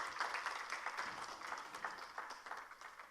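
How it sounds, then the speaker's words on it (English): Round of applause at an awards ceremony of the 2025 International Climate Summit, quiet and somewhat distant, with individual claps loosely audible in an uneven, rippling patter. "Can we have a round of applause?"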